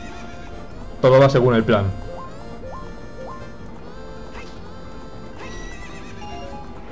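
A horse in the video game Zelda Ocarina of Time lets out one loud whinny near the start, then faint hoofbeats and game tones follow while someone talks over it.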